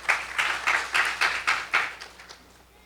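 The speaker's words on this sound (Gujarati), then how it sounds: "આપણે સ્વામીને એક વખત તાળીઓથી વધારીએ." Audience at a Saturday devotional gathering clapping in steady rhythmic unison, about ten loud beats that slow and fade out at the end, with no talk over it.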